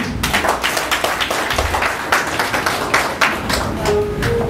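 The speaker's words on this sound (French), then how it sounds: "Applaudir s'il vous plaît." A crowd applauding at a wedding, with uneven bursts of clapping rising and falling for several seconds in a reverberant room.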